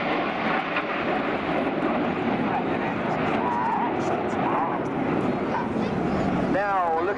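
RAF Red Arrows display jets finishing a slalom manoeuvre at an air show in Portrush, a continuous broad jet roar that holds steady throughout, with a commentator talking over it.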